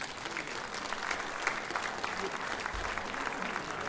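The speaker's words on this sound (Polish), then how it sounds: "gorące brawa do nich!" A concert audience gives warm, continuous applause for performers at a Silesian schlager show, a dense even wash of clapping from a crowd.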